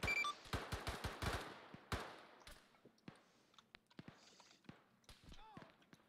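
Gunfire in a desert-set military video game: rapid bursts of automatic shots open loudly, then scattered single and double shots continue at varying distances, with mechanical clicks and background game noise.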